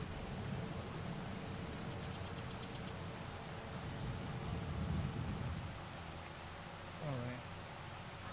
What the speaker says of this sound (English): It's a little bit weird that it didn't behave in the rain